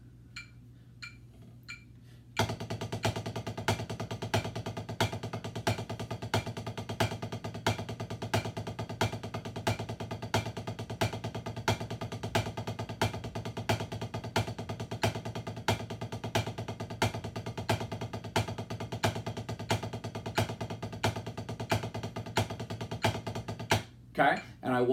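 A drummer plays a double paradiddle variation as steady sextuplets over a metronome's regular click. Quiet clicks open before the dense, even stream of strokes starts, and it runs loud and unbroken almost to the end.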